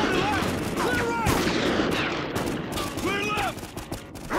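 Rifle gunfire in Call of Duty Ghosts, sharp repeated shots and blasts in a dense, loud battle scene with voices, chatter and other game noise throughout.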